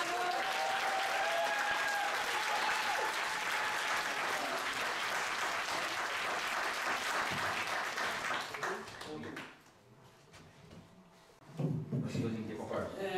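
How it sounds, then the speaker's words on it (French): An audience applauds Dr. Makengo after he receives his prize, steady dense clapping filling the room for about nine seconds before fading, with voices and scattered claps returning near the end. "J'aimerais qu'on l'applaudisse."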